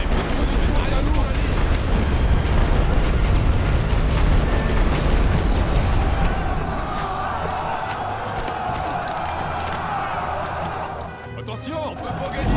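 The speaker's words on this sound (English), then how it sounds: "Start the barrage." Artillery barrage explosions in The Great War: Western Front, a sustained heavy rumble of shelling that eases after about six seconds into a thinner ongoing din.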